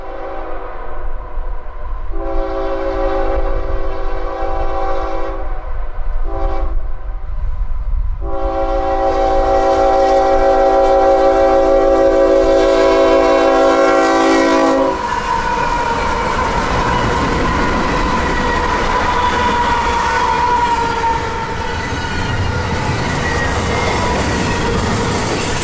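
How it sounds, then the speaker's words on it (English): Hotshot intermodal freight train QO25 pounds in from the north through Cordele, Georgia, sounding several long, loud horn blasts before its cars roll past close by in a steady, grinding rumble. "Pounding down from the north is daily hotshot intermodal QO25."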